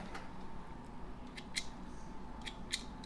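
Scissors snip sewing thread at a home sewing machine, a few short crisp cuts spaced apart over a steady background hum.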